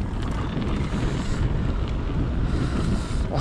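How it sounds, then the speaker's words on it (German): Loud, steady wind roar buffets the microphone of a downhill mountain biker riding a bike park trail in Winterberg, a constant rushing blast with gusty swells throughout and no talk. "Oh, ich werde vom Wind zurückgedrückt hier, ey."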